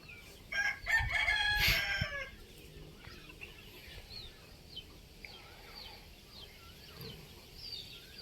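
A rooster of the Phanat fighting-cock type crows loudly once near the start, followed by quieter clucks and faint background farmyard sounds.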